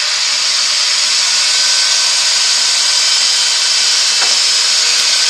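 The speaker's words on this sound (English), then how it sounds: "I've sped the lathe back up again." A wood lathe spins an 11-inch sycamore bowl at speed, giving a steady, loud broadband whir with a faint tick near the end and no talking.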